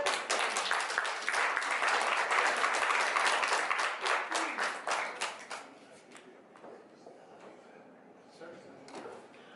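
Crowd applause at a Las Vegas shopping mall launch, steady loud clapping from many people for about five seconds, then tapering into sparse, fading claps.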